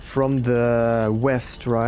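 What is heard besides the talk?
No everyday noises stand out.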